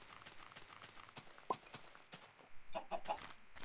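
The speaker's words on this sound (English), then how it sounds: "That's right, chicken, lay those eggs." A chicken clucks in Minecraft, a few short clucks around the middle and a cluster later, over soft footstep-like taps at a moderate distance.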